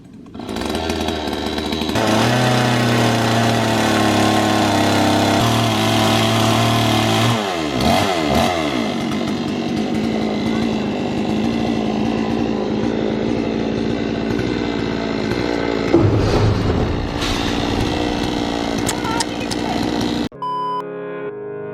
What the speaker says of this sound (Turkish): Ve motor da geliyor Yücel amcamın elinde.